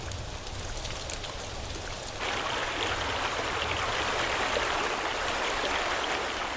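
Steady rain patters and hisses throughout, growing denser and brighter partway through, with no voices.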